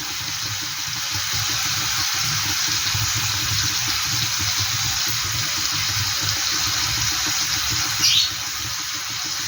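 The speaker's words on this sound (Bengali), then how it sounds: "সামান্য একটু জল দিয়ে দিলাম" A little water poured into a pan of chicken with yogurt during home cooking, a steady broad rushing pour that runs throughout at moderate loudness, with a brief bright squeak near the end.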